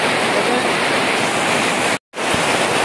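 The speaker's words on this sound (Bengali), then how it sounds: "বন্ধুরা বৃষ্টি শুরু হয়ে গেছে" Heavy monsoon rain pours on the Rupshi waterfall trail, a loud, unbroken broadband hiss close around, cut by a brief dropout near the end before resuming.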